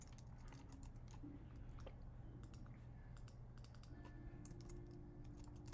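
Typing on a computer keyboard while laying out a style catalog in Adobe Express, heard as a run of quiet, scattered key clicks over a steady low background hum, close but soft.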